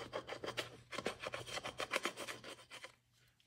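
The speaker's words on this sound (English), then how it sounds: "with my awl, I can even" An awl scratches repeatedly across a layered mixed media art surface, giving quick, close rasping strokes in a steady rhythm that trail off near the end, with no voices.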